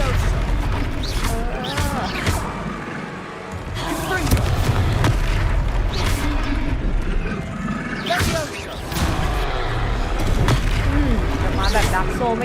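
Confringo fire spell explosions in the video game Hogwarts Legacy, repeated booming blasts and crashes over a continuous battle din, with a voice talking over the action.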